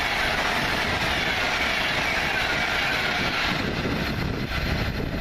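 A freight train hauled by class 66 locomotive 66722 passes close by, a loud, continuous rumble of wagons with rhythmic wheel clatter and faint squeal, no voices heard.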